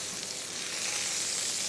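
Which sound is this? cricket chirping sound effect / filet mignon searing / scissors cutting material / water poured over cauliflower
filet mignon searing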